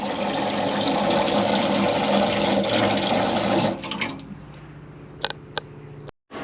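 Hot water runs steadily from a tap in a motorhome washroom with the boiler on, a loud continuous gush that stops abruptly, followed by a few drips and small clicks.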